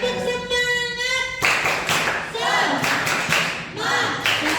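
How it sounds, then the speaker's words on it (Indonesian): A school class does a rhythmic spirit clap, a loud group burst of claps in a patterned beat, with voices chanting along after an opening spoken call. "sebelum Surya presentasi kita tepuk semangat dulu ya"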